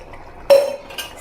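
A metal spoon scrapes and clinks against a pot while sesame oil is stirred into a kuzhambu, one sharp clatter followed by a softer knock, close and alone.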